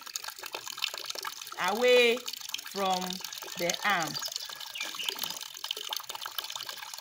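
Tap water runs steadily while hands are washed and rinsed, a continuous hiss beneath someone speaking instructions over it.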